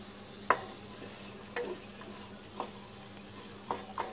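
Masala rice being stirred and smashed with a spatula on a tawa, four or five sharp scraping knocks at roughly one-second intervals over a faint low sizzle.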